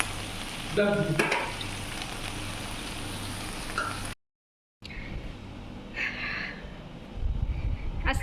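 Chicken meat for kebab frying in a pan, a steady close sizzle with bursts of stirring and clatter, broken by a brief moment of silence midway.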